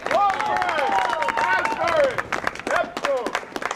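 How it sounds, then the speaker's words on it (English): Crowd applause and scattered cheers at an outdoor rally in Long Branch, New Jersey, with voices calling out over the clapping. "Let's give a round of applause for Kelo!"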